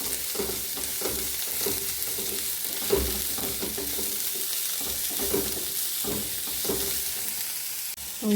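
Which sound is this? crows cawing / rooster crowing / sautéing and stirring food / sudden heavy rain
sautéing and stirring food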